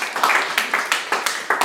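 Congregation clapping together in a church at the close of a service, a steady run of quick, crisp claps filling the room at moderate loudness, no voices over it.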